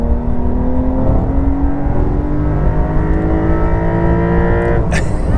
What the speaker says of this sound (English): that glorious mechanical sound from the 3-liter flat 6 is so good